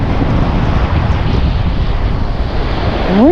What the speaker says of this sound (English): The wind's coming from this way over here, kind of down